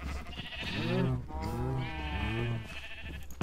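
Sheep in Minecraft bleat three times in quick succession, clear wavering baa calls over a faint low hum, with no speech.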